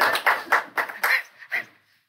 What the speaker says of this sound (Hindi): तो एक बार खुद के लिए तालियां हो जाएं।